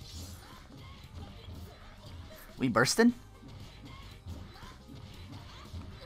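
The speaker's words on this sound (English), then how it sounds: "And then the glass broke." A short, bright crash of breaking glass from an anime fight bursts out in the middle, a quick cluster of shattering hits over a murmur of background sound, with a person speaking briefly.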